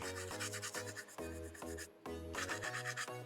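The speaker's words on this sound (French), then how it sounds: "Donc là, c'est une petite brosse nylon hein, que j'ai." A small nylon brush scrubs a Nordic gold metal medallion in quick rhythmic strokes that give short squeaky rasping tones. The sound is quiet and close, with no voices.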